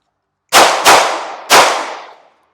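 Three loud, close gunshots from a Glock 47 pistol fired in a Mozambique drill: two in quick succession, then a brief pause before the third, each with a ringing outdoor tail.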